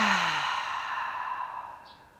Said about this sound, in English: exhaling as loud as you want through the mouth